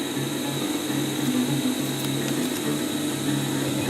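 A sewing machine stitching fabric for a DIY surgical mask, a steady mechanical whir and hum that runs continuously at close range, with no talk.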